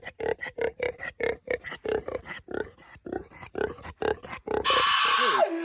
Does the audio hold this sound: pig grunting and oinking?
yes